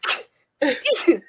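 Single sharp sneeze from a person, a short burst followed by a brief pause and a voice speaking right after, close and fairly loud.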